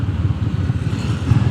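Honda GB 350 S engine and exhaust thumping up close, a loud low pulsing beat with slight surges in pace, heard on its own without speech.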